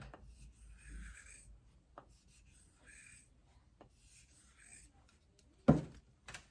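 Spoon hook knife drawn across a loaded strop: soft, quiet rubbing strokes repeated at an uneven pace, with small taps between them and one sharper knock near the end.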